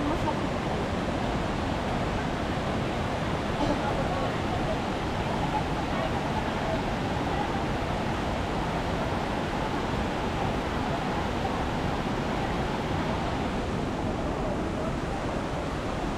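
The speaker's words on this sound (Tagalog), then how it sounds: "Maririnig mo talaga yung ano ng tubig, yung agos, yung pagaspas ng tubig yun." Flowing water current, a steady broadband rush of moving water that holds at an even level throughout, with no distinct splashes or breaks.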